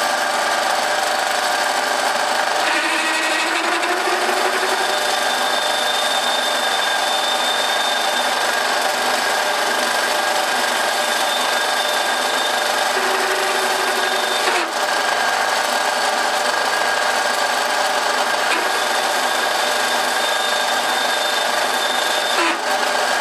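A drill bit bores into wood while building a greenhouse on an allotment, a continuous close, buzzing whir of a power drill with brief shifts in pitch as it works.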